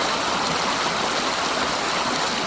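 Steady, broadband rushing of a waterfall along the Lake Superior shore in Ontario, constant and fairly loud throughout with no voices.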